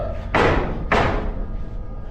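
Two sharp bangs, about half a second apart, like a door slamming in a house said to have a poltergeist. Both are loud and close, and a quiet room hum follows.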